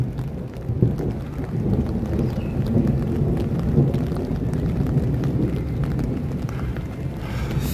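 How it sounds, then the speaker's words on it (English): Low rumbling thunder rolls through a steady rainstorm at Universal Orlando, a continuous wash of heavy rain and distant booms that stays fairly even in loudness throughout, with no talking. "Thunder."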